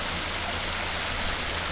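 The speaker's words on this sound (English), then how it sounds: "Here's what the water's like over here, in case anybody's thirsty." A cold stream at Lost Maples, Sabinal, flows with a steady, close, full-bodied rush of water that holds at an even level for the whole moment, with no voices.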